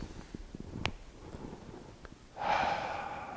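Slow breathing during a beginner tai chi qigong flow, with soft quiet breaths and faint movement noises, then a louder, steady breathy exhale rising near the end.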